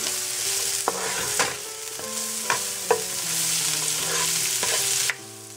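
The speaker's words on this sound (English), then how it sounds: "And then we'll saute these a little bit." Carrots and celery sauté in a pan with a steady sizzle, broken by several sharp stirring scrapes and clinks of a utensil, close and continuous until it cuts off near the end.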